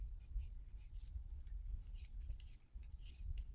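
Pencil sketching on a postcard, heard as soft, quiet scratchy strokes in short bursts over a low background hum, with no voices.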